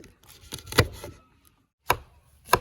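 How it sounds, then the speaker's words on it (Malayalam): A knife strikes a cutting board in sharp, uneven chops, finely chopping capsicum and cabbage, a quick cluster followed by a pause and two more separate cuts, close and fairly quiet. "ഇങ്ങനെ പൊടിയാക്കി അരിയാണ് കേട്ടോ"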